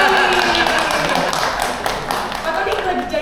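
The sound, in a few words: applause for Pak Tony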